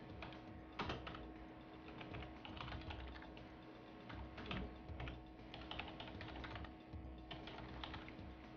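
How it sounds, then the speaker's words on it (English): Rapid typing on a computer keyboard while entering commands into a Windows command prompt, steady irregular key clicks close up with brief pauses between bursts, no voices. "Okay, then we're going to type ADB"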